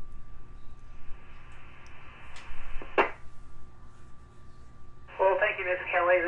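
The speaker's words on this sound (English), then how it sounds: "the repeater jumped in there and gave the time and shut Tom off" An amateur radio repeater cuts in over a transmission with a click and an automatic time announcement in a synthetic voice, then a short tone burst follows over steady radio hum.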